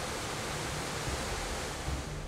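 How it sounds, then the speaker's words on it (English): Multnomah Falls in the Columbia River Gorge pours in a continuous broadband roar, steady and enveloping with no pauses. "many falls cascade into the Columbia River"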